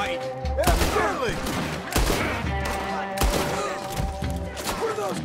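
Repeated gunfire bursts from a Red Dead Redemption 2 firefight, several loud volleys spread across the clip with game music and ambience underneath.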